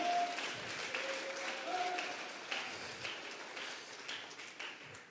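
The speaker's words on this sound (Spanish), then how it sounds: "dele fuerte esas palmas al Dios de la gloria" A church congregation claps during a Thursday Bible doctrine service, a fairly quiet, continuous patter of hands with a few brief tonal sounds and murmurs mixed in.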